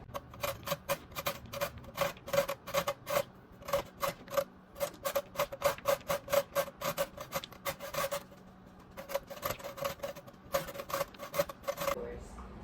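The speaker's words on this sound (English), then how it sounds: "we have a peeled carrot right here, and Alec is going to grate it" A peeled carrot is scraped against a grater in a home kitchen while making carrot cake, giving quick repeated rasping strokes in bursts with short pauses, close and clear.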